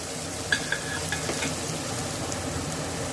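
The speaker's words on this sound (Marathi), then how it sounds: "आता याला थोडा याचा कच्चेपणा मिरचीचा आणि लसणाचा जाईपर्यंत आपल्याला असं परतून घ्यायची आहे" Crushed green chillies and garlic sauté in a hot pan, a soft steady sizzle with a few light stirring clinks near the start, close and fairly quiet with no talking.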